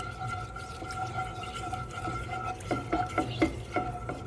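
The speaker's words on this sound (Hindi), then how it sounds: "अब हल्की हल्की आंच पे मैं इसको पकाऊंगी" A green tea face pack heats in a pan on a stove over low heat, giving a soft steady simmer with a low hum and a few light clinks of a utensil stirring near the end, no speech.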